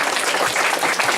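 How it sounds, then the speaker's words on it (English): A burst of audience applause at a magic show, dense clapping from many hands, steady and fairly loud for a brief moment. "Give them a big round of applause."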